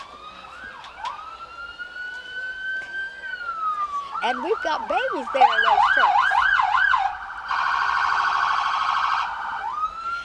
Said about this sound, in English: here comes the sheriff deputy cars with the loud sirens